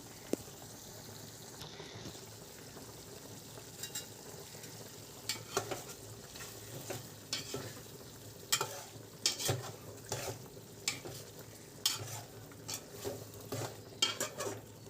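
Spicy chicken fry is stirred in a pan, quiet sizzling underneath repeated scraping and clinking strokes of a spoon against metal, growing busier toward the end.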